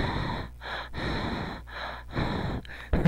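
A voice imitates heavy stalker breathing behind a door, with loud, rhythmic rasping inhales and exhales repeating about four times, close and unaccompanied by talk.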